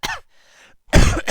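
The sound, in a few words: coughing and throat clearing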